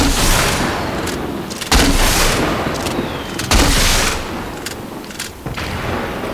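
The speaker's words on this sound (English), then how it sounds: "Fireworks." Loud crackling booms and rapid popping bursts of fireworks going off in a game, dense and continuous with sharp sudden blasts.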